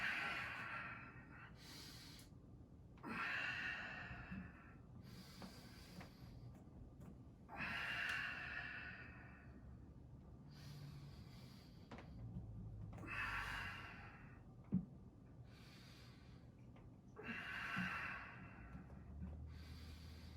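Slow, deep breaths from someone holding a yoga wheel backbend pose, with five or six long inhale-exhale swells at a steady, unhurried pace, quiet and close.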